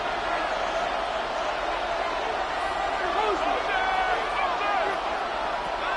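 A stadium crowd in the Madden 26 football game roars in a dense, continuous wash of noise, with a commentator talking over the din.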